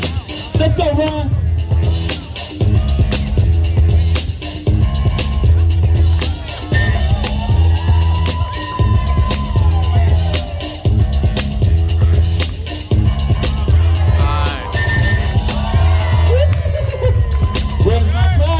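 A lively audience hums and calls out at an East Bay dance battle, with pounding beat-driven music running throughout and an MC's amplified voice breaking through the crowd noise.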